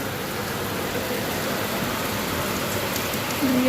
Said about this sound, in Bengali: কত বৃষ্টি হচ্ছে, কত বৃষ্টি পড়ছে, খুব জোরে একদম হাওয়া দিচ্ছে, বৃষ্টি পড়ছে